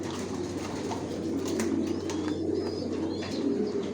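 Racer pigeons coo softly from nearby in a loft, with low murmuring calls layered over a steady background hum and a few faint chirps, and no talking.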